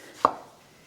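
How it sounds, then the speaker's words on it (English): A single sharp knife chop dicing Roma tomatoes on a cutting board in a home kitchen, one crisp close thud with no talking. "go ahead and dice up some Roma tomatoes"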